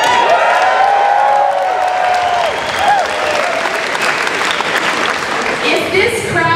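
A political rally crowd claps and cheers loudly throughout, dense sustained applause with whoops and shouted voices mixed in.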